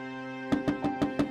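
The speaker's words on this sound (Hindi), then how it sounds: "तभी कोई जोर से दरवाजा खटखटाता है।" Five loud, evenly spaced knocks on a door in an animated horror story, landing over a sustained droning music tone.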